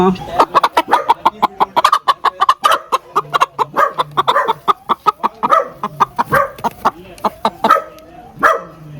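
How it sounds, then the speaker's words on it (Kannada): Kadaknath chickens on a small poultry farm cluck and squawk in a busy, overlapping chorus of sharp calls, close and loud throughout, with a brief voice or dog-like bark mixed in. "ನೋಡ್ರಿ ಈ ಇದು ಕಡಕ್ನಾಥ್ ಕೋಳಿ ಕಡಕ್ನಾಥ್ ಕೋಳಿ"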